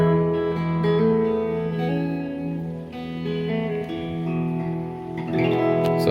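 A Mesa Boogie Fillmore 25 guitar amp, repaired and playing through its reverb, sustains a steady, washed-out tone with long reverb tails and shifting notes, fairly loud and with no talking.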